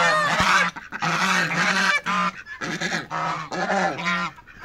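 Village ducks around a freshly filled backyard pool give loud, nasal honking quacks in a rapid series of bursts with short gaps, close by and with no voices.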